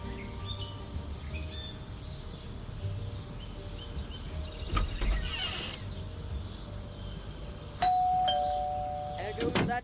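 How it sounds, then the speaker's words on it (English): A doorbell in the horror game Scary Teacher 3D rings twice: a brief chime near the middle, then a sustained ringing tone near the end that holds and slowly fades. Both rise over a steady busy game background with some chirps. "There goes that stupid bell again."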